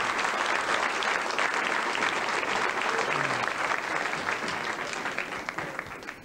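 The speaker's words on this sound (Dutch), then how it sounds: "Applaus voor deze angels." A television studio audience applauds at length, thick continuous clapping that stays loud throughout and thins slightly at the end.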